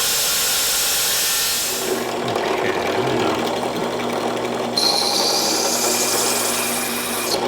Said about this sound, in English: I'm drilling through with my diamond core saw